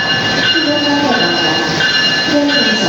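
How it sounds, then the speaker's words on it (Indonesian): The Wijaya Kusuma passenger train, hauled by a CC206 locomotive, rolls up to a station platform with a steady loud rumble, high-pitched wheel squeal and a rhythmic clatter of cars passing close by. "kereta api Wijaya Kusuma yang akan kita naiki pada perjalanan kali ini sudah terlihat ya teman-teman dari arah timur"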